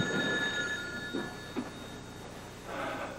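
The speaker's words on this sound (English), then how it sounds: "It's ringing." A phone rings in a few brief, faint bursts over a steady background hum, with a louder ring toward the end.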